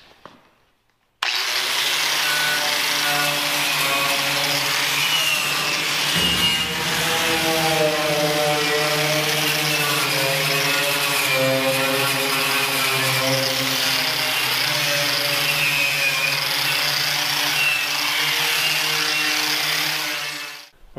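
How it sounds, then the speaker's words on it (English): An angle grinder fitted with a wire brush scours weld spatter and rust off a metal truck rack, a loud continuous whirring and scraping that runs without pause, its pitch shifting as pressure changes. "now I'm going to work my way around with wire brush and angle grinder"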